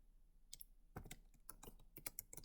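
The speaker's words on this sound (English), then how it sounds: "So, for that, I'm just gonna type" Quiet, close keystrokes on a computer keyboard, a few scattered taps and then a quick irregular burst of typing, with no voices.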